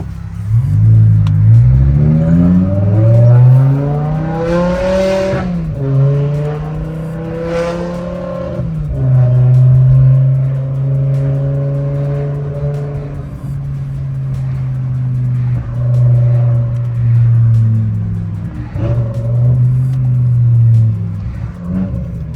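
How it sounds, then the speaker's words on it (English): A loud straight-piped V10 exhaust on a BMW E60 M5 with the S85 engine blares and crackles as it drops through gears, the pitch sliding down, then holding near and steady. "Here comes my favorite part on any straight pipe S85, that downshift."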